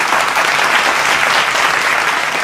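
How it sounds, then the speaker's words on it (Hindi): A studio audience bursts into loud, steady applause welcoming guest Aniruddhacharya Ji Maharaj, dense clapping filling the whole stretch without a break. "जोरदार तालियों से एक बार फिर अभिनंदन"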